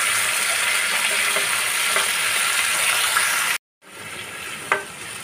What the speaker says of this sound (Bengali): হাফ চামচ হলুদ দিয়ে আমি সমস্ত কিছুকে ভালো করে মিশিয়ে নেব।